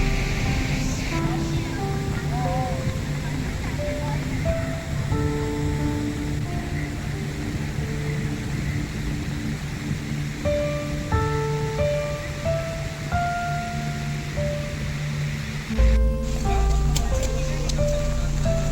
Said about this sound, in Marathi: सतत पावसामुळे नदी खूप भरून वाहत होती. पाण्याचा जोरदार प्रवाह आणि त्याचा आवाज खरंच मनाला आनंद देणारा होता.